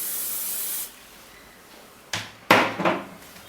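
Hairspray hissing from a can onto hair being set into 1920s-style waves, first a steady close spray that stops, then two short sharper bursts after a pause.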